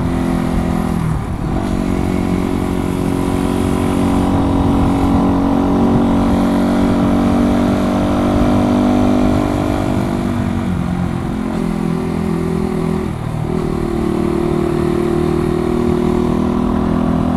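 A 125 cc motorcycle being ridden: a loud, steady engine drone that holds throughout, with brief pitch dips early on and again toward the end before settling back to an even hum.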